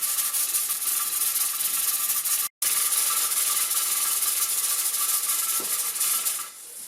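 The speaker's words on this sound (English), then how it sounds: "the jiggling is going on and off how it should" A pressure canner's weighted gauge rattles and jiggles steadily at 10 pounds of pressure while chicken and vegetable broth cans, a continuous close metallic chatter with a hissing steam wash, broken by one brief dropout near the middle.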